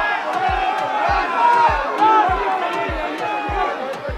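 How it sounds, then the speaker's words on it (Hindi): Crowd at a political event in Bengal shouting Jai Shri Ram slogans, a dense loud mass of voices chanting over regular heavy thumps that land roughly every half second. "भीड़ में मौजूद लोगों ने जय श्री राम के नारे लगाए।"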